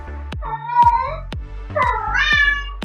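A pet cat meows twice, close and clear, each call long and rising in pitch, with no talk over it.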